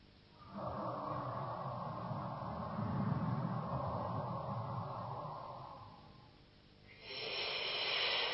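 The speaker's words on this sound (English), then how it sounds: "Now let's breathe together a few deep breaths from the abdomen." Slow, deep abdominal breathing close to the microphone, a long drawn breath lasting several seconds, a brief pause, then another breath beginning, with no talk.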